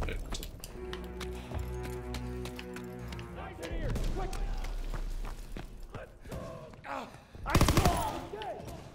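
Bursts of rapid gunfire from a PPSh submachine gun in Call of Duty WW2, mixed with game music and effects and punctuated by a loud volley near the end, with a player's voice talking over parts of it.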